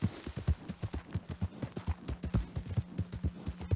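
Horse hooves clip-clop in Red Dead Redemption 2, a quick steady trot of distinct thuds close by, with a faint low hum running underneath and no talk.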